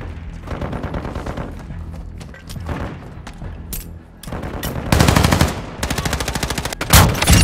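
Call of Duty: Modern Warfare II gameplay with rapid automatic gunfire, bursts of close, loud machine-gun shots and single booming reports, growing heavier and more sustained toward the end.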